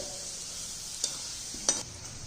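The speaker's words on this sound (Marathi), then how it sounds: "असं असं हलवून घ्यायचं म्हणजे व्यवस्थित असं तळून निघतं" Grated potato frying in a pan gives off a soft steady sizzle, with two brief scraping stirs of a spatula, the second a little louder, and nobody speaking.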